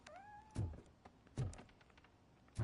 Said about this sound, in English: This is just one of those cats with a really, really loud meow.